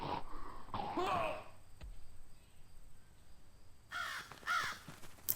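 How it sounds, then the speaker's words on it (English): Crows caw in the video game Shrouded Aspect, a few loud harsh calls at the start and another burst near the end, with quieter game ambience in the gaps. "So you can hear all the crows when they're off screen still in the direction that they are"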